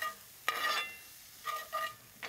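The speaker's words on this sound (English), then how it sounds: "let that sizzle." Bursts of frying sizzle as peppers and onion hit a hot pan, hissing in short waves with quieter gaps between, close by and with no talking.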